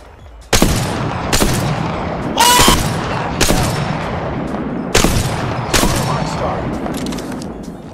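Video game gunfire comes in sharp, loud bursts: several separate shots and short volleys spaced a second or two apart, each fading into a rumbling tail.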